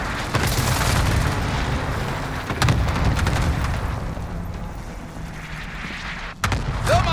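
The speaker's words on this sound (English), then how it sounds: "Allied cluster strike arriving. They're airstriking." Cluster airstrike explosions land in Call of Duty Warzone on Rebirth Island as a rolling mass of deep booms and blasts, with a few sharper impacts standing out from the continuous rumble.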